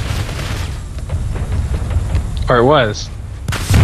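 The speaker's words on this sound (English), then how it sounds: "He threw a grenade." A grenade blast in the shooter game PlanetSide 2, a sharp boom among ongoing gunfire and game noise, with a voice speaking briefly over it.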